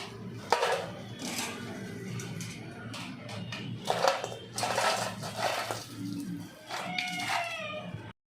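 Crispy potato fry stirred with a spatula in a pan gives a series of scraping, rustling bursts and bright clinks against the metal, coming in uneven strokes, close up in a home kitchen.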